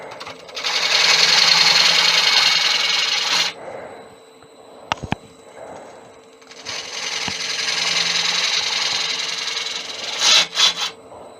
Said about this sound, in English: Now I'm going to get the smaller bowl gouge to put a curve in there